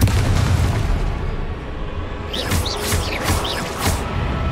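A Confringo blasting spell detonates in Hogwarts Legacy, a loud booming fire burst followed by a quick run of sharp crackling bursts and whooshes over a constant rumbling backdrop.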